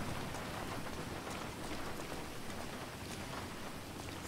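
Steady rain falls in an outdoor scene of a crime-themed video game, a constant dense hiss of drops that stays loud and even throughout with no talk.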